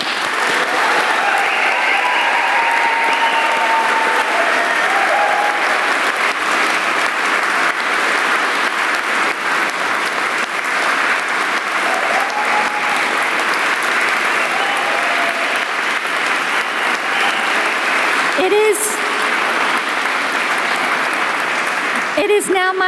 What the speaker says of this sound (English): Shall we just have one more round of applause just for everybody?